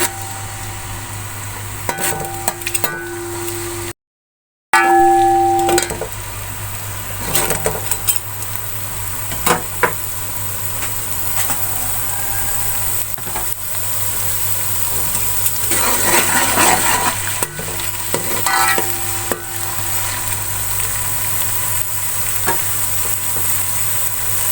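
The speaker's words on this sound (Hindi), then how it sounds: "अब इसको थोड़ी देर फ्राई कर लेंगे हल्की आंच पे।" Garlic paste fries on low heat in a pot while being stirred, giving a soft continuous sizzle with repeated scraping and clinks of a utensil against the pan. No talk is heard.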